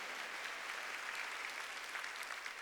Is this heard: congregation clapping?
yes